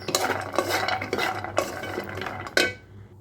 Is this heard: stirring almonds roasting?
yes